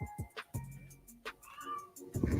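A house cat meows several times in short, close, varied calls. The calls come over quiet room noise and end with a rustling thump.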